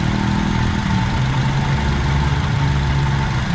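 The engine of an overheated Nissan Sentra, broken down at the roadside, runs with a steady low drone and hum, constant and close, with no voices over it.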